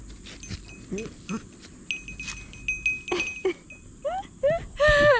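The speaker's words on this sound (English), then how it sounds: "Sorry, you might hear these little goats." Several goats bleat in short wavering calls from close by, with clinking and rustling noises in between and a steady high hum throughout.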